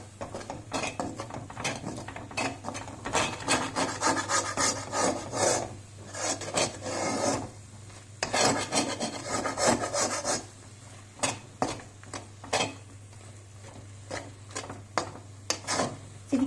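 A utensil scraping and stirring beaten egg into an eggplant mixture in a pan for khagina, with repeated rasping strokes in bursts and brief pauses, close and fairly loud.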